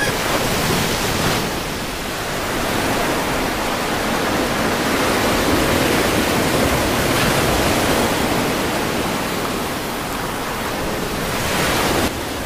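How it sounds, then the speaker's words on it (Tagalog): Strong ocean waves surge and crash in a steady, loud roar of surf, with no voices over the rushing water. "Kaso parang inaabot pa rin ng malakas na alon."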